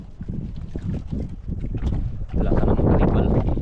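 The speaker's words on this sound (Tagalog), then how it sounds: "Hangin na naman." Steady wind rushes over boats on open water, a broadband roar that strengthens midway and stays loud, with brief bits of talk mixed in.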